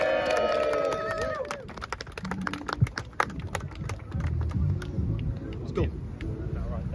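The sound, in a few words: crowd cheering for a veteran at a rally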